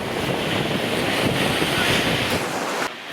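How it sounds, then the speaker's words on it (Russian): Hurricane-force wind from a megacyclone blows in off the sea at Gelendzhik, roaring steadily against the microphone with crashing surf beneath, loud and continuous before dropping off abruptly near the end. "ветер дует с моря"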